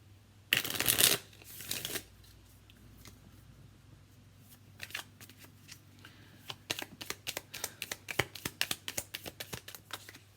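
A deck of oracle cards being shuffled up close, with a loud riffle burst near the start and a second shorter one, then a long run of quick, light, irregular card taps and flicks.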